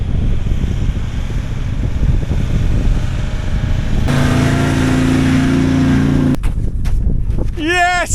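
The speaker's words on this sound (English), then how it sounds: "the truck managed to force its way through." Truck engine straining and revving as it forces through a snow drift in harsh wind, a loud steady roar with a droning low tone that cuts off, followed by a brief burst of whooping voices.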